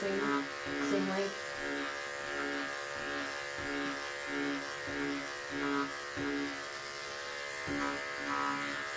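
An electric shaver trims short-pile faux fur with a steady, close electric buzz that pulses slightly as the blades pass over the pile, running alongside a voice.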